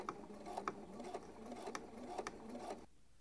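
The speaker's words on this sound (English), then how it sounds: "This is a regular length straight stitch, and you can see I'm doing it right next to my basting stitch instead of right on top of it" A sewing machine runs a regular-length straight stitch along a garment neckline, a quick steady mechanical rattle of needle strokes lasting a few seconds before stopping abruptly.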